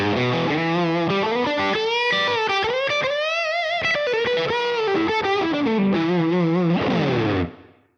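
A heavily distorted electric guitar rips through a pentatonic lick at full speed, rapid notes and bends running together, loud and solo until it cuts off at the end.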